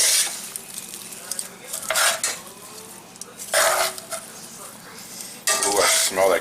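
Spinach with garlic stirred in a pan over medium heat, giving bursts of scraping and sizzling with clinks of a utensil against the pan, loud and close, separated by quieter stretches of low background noise.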